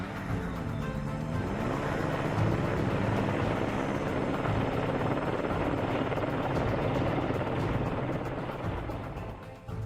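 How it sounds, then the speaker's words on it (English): A search helicopter circles low over alpine terrain hunting for a missing small plane, its rotor and engine roar steady, loud and continuous for the whole stretch, fading slightly at the very end. "The helicopter's been working this area for well over an hour now."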